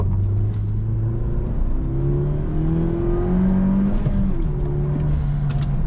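A Peugeot 308 GTi with a 1.6 turbo engine accelerates from inside the cabin, its engine note climbing steadily in pitch through a gear before the next gear pulls again, loud and continuous.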